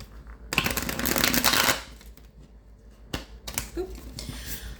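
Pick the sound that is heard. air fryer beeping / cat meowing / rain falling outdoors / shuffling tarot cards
shuffling tarot cards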